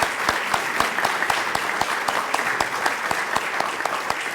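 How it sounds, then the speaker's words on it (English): Round of applause from an audience at a city manager meet and greet, brisk clapping with sharp individual claps standing out in a steady rhythm, moderately loud and without talk. "let's give them all a round of applause"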